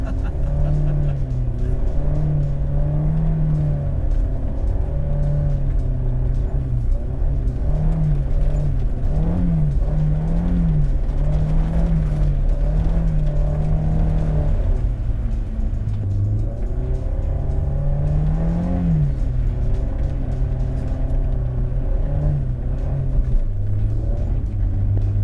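A Honda S2000 drifts on a snowy mountain road under light throttle, its engine holding a steady close drone that rises and falls in gentle waves as the car swings sideways, with no talk over it.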